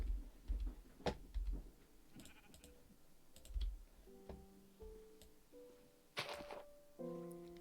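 Several short bleats from a Minecraft sheep, interspersed with clicking keys and soft electronic tones.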